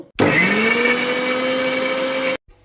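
A kitchen blender grinds chopped ingredients into a paste in one continuous, loud motor whine that starts abruptly, holds steady for about two seconds and then cuts off.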